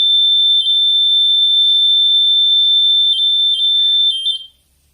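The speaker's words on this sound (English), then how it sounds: "I don't know what that alarm is actually." A loud, piercing electronic alarm holds one shrill continuous tone for about four seconds and then cuts off abruptly, alone with no voices.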